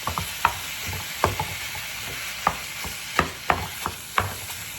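Two pounds of ground beef frying in a pan, a low steady sizzle with sharp, intermittent scraping stirs roughly every second, close by and moderately loud, without any voices.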